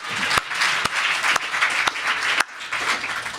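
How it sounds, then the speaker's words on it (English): Conference audience applause, a dense, sustained clapping with a few sharp, loud claps standing out close by. "How about a round of applause for a great answer"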